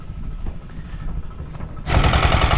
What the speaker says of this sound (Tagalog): napanda na natin yung makina ni Aso Corling